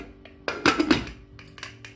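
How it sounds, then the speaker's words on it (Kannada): A pressure cooker lid being closed over chickpeas for usli. A few clanking metal knocks and a scraping clatter come up close, followed by lighter taps, with no talking. "ಕುಕ್ಕರ್ ಮುಚ್ಚಳ ಮುಚ್ಚಿಸ್ತೀನಿ"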